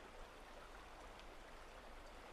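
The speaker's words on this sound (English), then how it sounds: "With the sound of the water in the background." A stream flows through the old forest of the Cradle Mountain area in Tasmania, giving a faint, steady, even wash of running water with no other sounds standing out.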